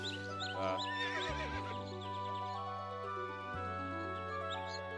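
A horse whinnies in the video game King Exit, a loud trilling neigh near the start, with game music droning on underneath.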